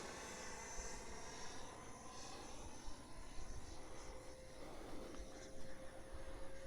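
A Freewing Cougar EDF model jet takes off, its ducted fan giving a faint, steady whine that rises slightly as it climbs away.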